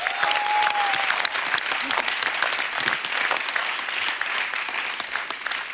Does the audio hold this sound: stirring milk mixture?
no